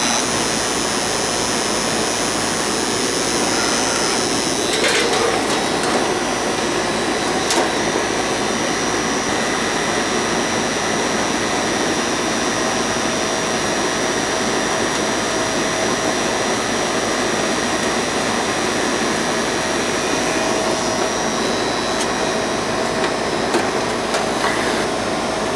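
A Goodman air conditioning system starts up and runs with a loud, steady roaring whoosh of airflow and motor hum that stays constant throughout, close by, with a few faint clicks.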